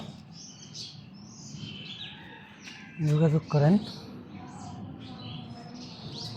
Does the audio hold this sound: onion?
no